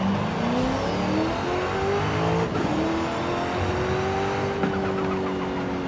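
A car engine revs hard in Forza, a loud sustained whine climbing in pitch with turbo-like whir, briefly dipping at a gear change before rising again.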